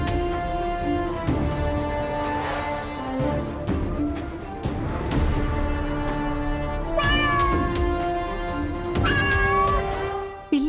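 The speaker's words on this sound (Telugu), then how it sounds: "పిల్లి" A cat meows repeatedly, drawn-out wavering cries rising and falling over a sustained tonal background throughout.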